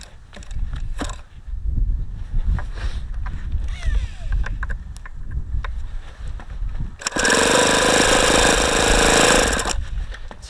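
ASP FS65 four-stroke model engine run in cold temperatures, with loud, steady buzzing roar starting several seconds in and holding for a few seconds after a stretch of quieter handling noise.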